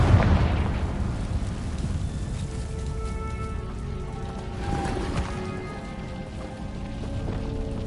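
Confringo blasting spell in Hogwarts Legacy bursting with a sharp explosive crack at the start, followed by a crackling, rumbling wash of debris and fiery noise that lingers and swells again midway.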